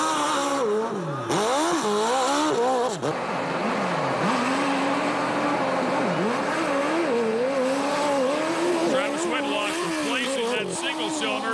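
A hill climb motorcycle fitted with a 4-cylinder 1400cc Kawasaki engine roars loudly and continuously, its revving pitch rising and falling as it climbs, with an announcer talking over it.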